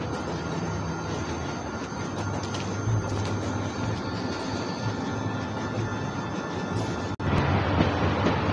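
A train in The Walking Dead Season One video game rumbles steadily along, a dense continuous roar with faint clattering, briefly dropping out for an instant before resuming.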